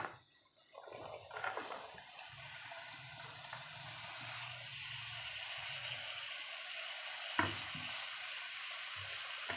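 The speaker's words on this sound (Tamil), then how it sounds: "நம்ம எடுத்து வச்சுருக்க இந்த காய்கறிங்களாம் இருக்குல்ல, அப்படியே வந்து இதில் போட்டுக்கலாம்" Chopped vegetables hitting hot oil with masala for a vegetable kurma, giving a steady soft sizzle with stirring scrapes and a sharp clink near the end, faint and close, no talk.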